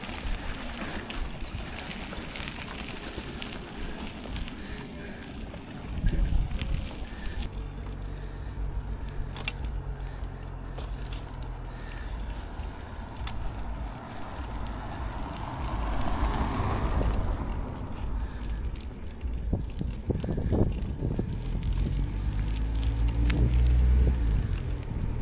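A sailboat motoring under engine power at sea, a continuous low engine drone mixed with wind buffeting and water rushing past the hull.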